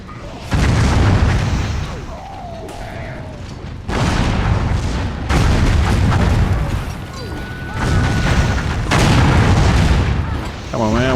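Cannon fire in the fantasy MMO Warhammer Online, repeated heavy booms arriving in loud bursts every couple of seconds over a dense battle din, with voices talking over parts of it.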